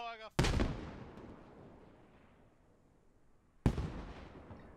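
Anti-tank grenades explode in a military shooter game set during a battle for Fallujah. Two loud, sharp blasts each trail into a long, fading rumble, and a brief voice is heard just before the first.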